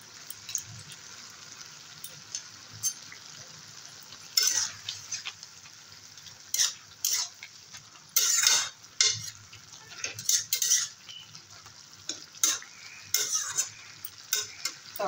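A curry of water spinach stems and prawns fries over a raised gas flame, with a steady soft sizzle broken by repeated sharp scraping stirs of a spoon against the pan.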